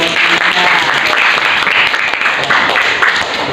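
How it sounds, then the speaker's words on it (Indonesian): Audience applause fills a prayer-practice session, a dense steady clapping from a crowd held at an even loudness throughout, with no voices over it. "kasih tepuk tangan dulu"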